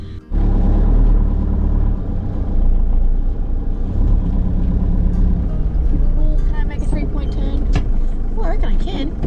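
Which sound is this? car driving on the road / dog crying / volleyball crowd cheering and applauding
car driving on the road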